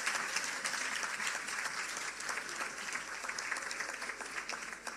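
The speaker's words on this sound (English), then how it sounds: "I want a rousing round of applause" An awards ceremony audience breaks into sustained applause, a dense, steady wash of many hands clapping that fills the room without pause, with no voices rising above it.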